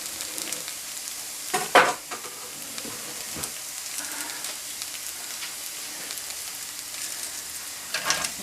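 Bacon sizzles and hisses steadily in a stir-fry pan, a close, continuous crackle with a brief louder flare as it is stirred and moved around.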